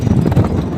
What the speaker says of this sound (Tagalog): Ang ambience, mahangin.